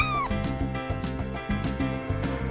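Baby kittens meowing, with high, wavering mewls over a steady, rhythmic musical backing.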